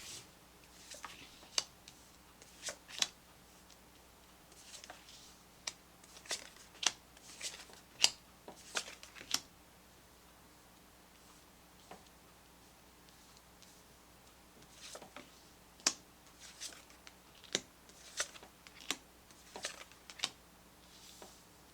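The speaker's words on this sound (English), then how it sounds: "just wanted to get a nice shuffle for you guys" A deck of tarot cards being shuffled by hand, with soft, quiet riffling and tapping in irregular bursts, some pauses between them, and no talking.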